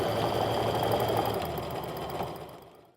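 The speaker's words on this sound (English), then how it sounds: "I am going to start by back stitching just to secure that really well." A sewing machine back stitches to lock a seam on a fabric pocket for a crossbody sling bag, running in a close, steady whir that holds for about two seconds before tapering off.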